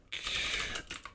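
Typing on a computer keyboard while a code request is entered into an AI chat, a dense, steady patter of keystrokes heard close up and alone, lasting about a second.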